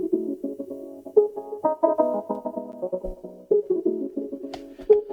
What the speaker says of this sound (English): the gate is it's an on-off switch on the sound